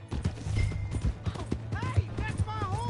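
Horse hooves clip-clopping in the Red Dead video game, a quick run of hoofbeats under raised, overlapping voices and a brief whinny-like cry.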